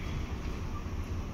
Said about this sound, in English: This train is moving awfully fast.